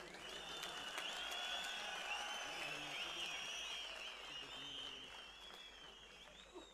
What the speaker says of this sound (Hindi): तालियों सीटियों से इनका स्वागत करें